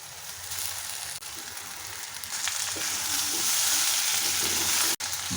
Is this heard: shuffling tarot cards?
no